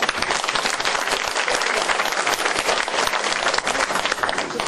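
Warm applause from a crowd at an inauguration ceremony for a women's volunteer fire brigade captain, many hands clapping in a thick continuous patter that stays steady and fairly loud throughout.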